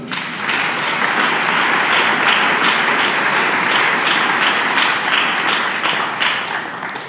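A church congregation applauding together in sustained, dense clapping throughout, loud and steady with a slight pulsing rhythm.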